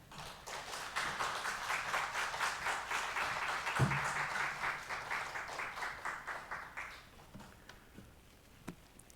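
A church congregation applauds as a pastor comes forward during a Sunday service, sustained, even clapping from many hands in a reverberant hall that swells and then gradually thins out into a few scattered claps.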